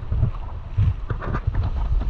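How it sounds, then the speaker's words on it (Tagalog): Strong wind in bad weather at sea on a fishing trip buffets the microphone, with low rumbling gusts that surge and ease in uneven bursts, loud and close. "Hangin lang siya."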